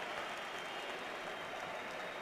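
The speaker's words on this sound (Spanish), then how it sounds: "Aplaudidísimo, se fue aplaudido Modric" Stadium crowd at a La Liga match between Granada and Real Madrid applauding as Modric leaves the pitch, a dense, steady wash of clapping and crowd noise from a distance.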